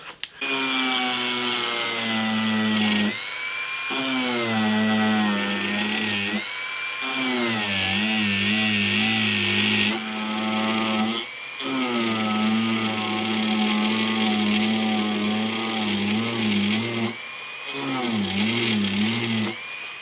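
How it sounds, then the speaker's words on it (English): High-pitched whine of a Dremel rotary tool with a diamond file grinding a guitar part, running in long sustained bursts with brief pauses and pitch dips as it bites into the work. "I've got a file, diamond file on the end of this Dremel"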